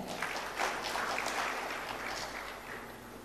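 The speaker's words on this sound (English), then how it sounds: "Can we have a round of applause for them?" An audience at a valedictory session applauds dignitaries on stage, a fairly faint, steady crowd clapping in a large hall that holds level and then eases slightly toward the end.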